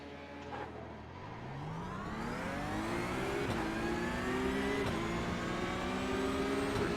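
Porsche Cup race car in iRacing launching from a standing start at full throttle, engine note climbing steadily through the gears with brief shift dips, loud and close with no talk.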